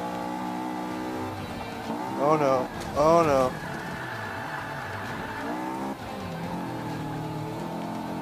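A race car engine in Forza Motorsport 5 on Xbox One drones steadily throughout, with tire squeal and skidding as the car is countersteered, loud in the foreground while a player talks over it.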